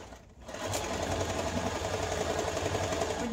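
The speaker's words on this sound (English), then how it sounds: "So I'm going to put it under my machine, again, just 1/4 inch seam allowance, back stitch, and then follow that edge." A sewing machine stitches a quarter-inch seam with backstitching on a Mario and Luigi style cap, a steady close mechanical whir that starts after a brief pause and runs on evenly.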